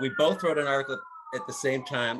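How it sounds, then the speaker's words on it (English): A police siren wails outside on a Beverly Hills street, its steady rising and falling tone running behind a person talking indoors. "oops, sorry for the sirens here"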